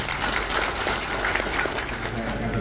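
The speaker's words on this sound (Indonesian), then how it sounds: "tepuk tangan untuk dia" A crowd at a PKB party political gathering in Central Java applauds the minister, a dense, steady wash of clapping at even loudness, with faint voices mixed underneath.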